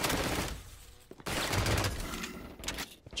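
Loud rapid bursts of gunfire from a gun in a video game, dense and rattling, broken by brief pauses, with no talk over it.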